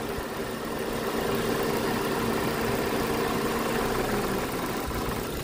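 A car engine idles steadily with its air conditioning compressor switched on, a continuous mid-pitched hum and slight vibration holding level throughout, with no talk.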